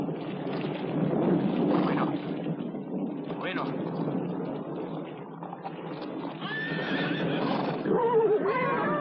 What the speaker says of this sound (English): Quick, bring the horses to the stand.